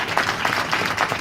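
An audience applauding author Cali at a book signing, a dense, steady burst of many hands clapping at moderate distance.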